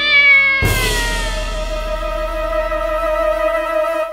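A cat lets out a loud, drawn-out meow that starts abruptly and holds steady, close and clear with no other sounds.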